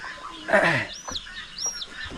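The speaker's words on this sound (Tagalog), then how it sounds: "Sisyo ng aming manok." Small chicks give a few thin, high peeps close by, with a farm setting's faint rustle and a short burst of talk at the start.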